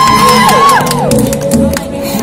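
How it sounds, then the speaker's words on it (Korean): A loud, close crowd cheers and whoops at a K-pop dance cover performance of two songs, with high excited shrieks rising over a dense roar for a couple of seconds. "박수"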